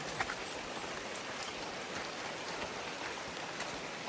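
Steady rain falls outdoors, a dense even hiss with scattered drop ticks, moderately loud and continuous with no talk.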